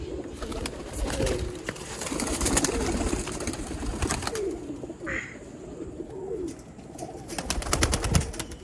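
Pigeons coo and flutter among sharp, repeated cracking noises, with a busy outdoor background throughout.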